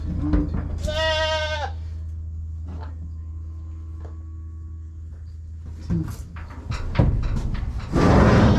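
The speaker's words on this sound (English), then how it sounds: "we got these goats loaded over here, all these little bucklings on this little pen" Young bucklings loaded in a small pen let out one clear, loud bleat early on, with metallic clanks and rattles from the pen later and a low hum running underneath.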